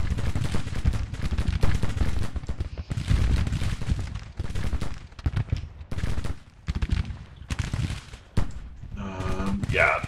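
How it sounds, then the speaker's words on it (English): Dense, rolling musket volleys from Mississippi rifles in Grand Tactician: Civil War, a battle strategy game, crackle almost nonstop in loud overlapping bursts with brief lulls, and someone talks over the gunfire. "Those Mississippi rifles definitely doing their job."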